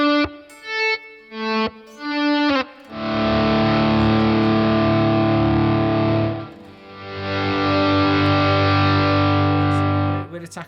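An electric guitar plays a few picked notes, then two long sustained chords ring out through overdrive, a compressor and reverb on a BOSS MS-3 multi-effects switcher, loud and thick with a smooth decaying tail.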